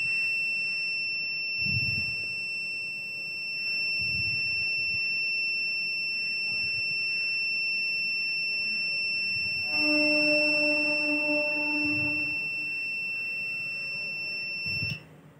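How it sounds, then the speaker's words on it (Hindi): A buzzer on a temperature-sensor over-heat alert beeps continuously as a steady high piercing electronic tone, with an extra pulsing beep layer joining midway, over faint background room noise. "जब तक ये हीट रहेगा ये टेम्परेचर सेंसर, तब तक बजर बजते रहेगा"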